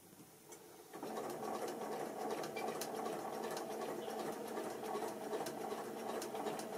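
A Janome Memory Craft 9400 QCP sewing machine sewing a small fabric wallet starts up after a quiet second and then runs in a steady, fast, close stitching whir.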